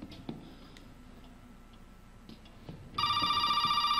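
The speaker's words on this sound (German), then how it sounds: "Ja, natürlich klingelt das Telefon." A telephone in the horror video game Resident Evil 7 starts ringing loudly after a quiet stretch of faint ticking and soft clicks, its bright electronic trill pulsing in a fast, steady pattern.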